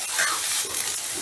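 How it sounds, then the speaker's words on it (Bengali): Soybean chunks frying in hot oil after potatoes and fish heads, a steady close hiss of sizzling with faint stirring, no voices. "এবার শেষে সোয়াবিনটা ভাজছি।"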